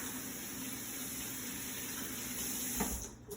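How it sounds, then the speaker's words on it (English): Tap water runs steadily into a cooking pot holding a whole porcupine, a continuous close wash of flow with a brief splashy surge near the end. "And then we're gonna fill in the pot with water."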